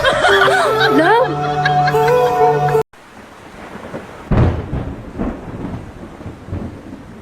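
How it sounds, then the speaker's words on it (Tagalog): Thunder rumbles and rain patters after a burst of high, tonal sound and a sudden cut, with one loud crack of thunder midway, followed by a steady wash of rain. "It's raining!"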